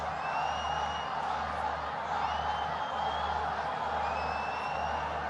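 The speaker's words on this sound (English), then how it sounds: "Crowd chanting Babar, Babar." A cricket crowd at a Pakistan versus Zimbabwe match chants Babar's name: a steady, distant roar from a large stadium crowd with faint whistles rising above it, continuous throughout.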